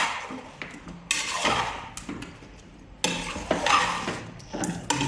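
A spoon stirs chicken curry with tomato in a metal pot, making intermittent scraping clanks and knocks in short bursts separated by quieter gaps.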